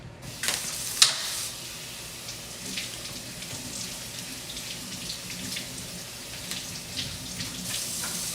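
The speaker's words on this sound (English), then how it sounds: "we're gonna rinse these off really quickly." Grapes and strawberries rinsed under a running kitchen tap, a steady broadband splash of water flowing continuously with a brief knock near the start, moderately close and without talk.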